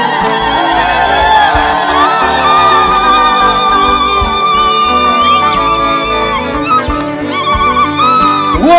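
A worship crowd at a student mission service ululates loudly and continuously, many high trilling voices wavering and overlapping with whoops and shouts in a dense, sustained wall of sound.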